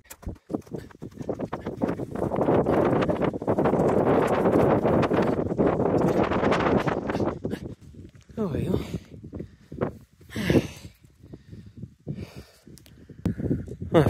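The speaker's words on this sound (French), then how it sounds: "il y a un vent à faire s'envoler les pierres" Strong mountain wind at Mont-Dore buffets the microphone in heavy, roaring gusts that rise and fall, with a person talking at times between the blasts.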